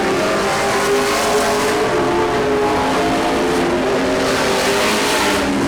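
Race cars roaring around the track during a Grand National heat race, a loud continuous engine drone with no break throughout.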